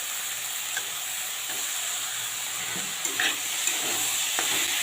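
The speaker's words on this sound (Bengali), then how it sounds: "খেড়োটা দিয়েও ভেজে নেব।" Ridge gourd and potatoes fry in a pan with a dense, bright, continuous sizzle, close and steady, with a few faint stirring clinks near the end and no talking.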